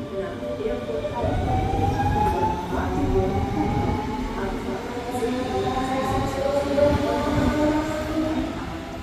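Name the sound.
S1 commuter train moving through station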